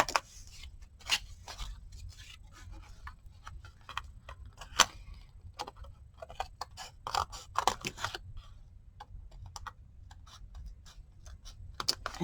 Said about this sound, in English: I'm just going to go ahead and trim the edges.